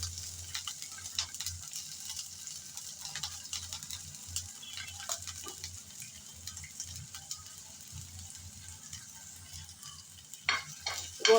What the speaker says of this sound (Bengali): রসুন কুচি দিয়ে একটু নেড়ে চেড়ে নিলাম।